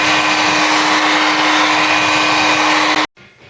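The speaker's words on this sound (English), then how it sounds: "that's ground the weld back, all done." Angle grinder grinding back welds on a Ford Cortina Mk3 body panel during restoration, a steady loud continuous whine that cuts off abruptly near the end.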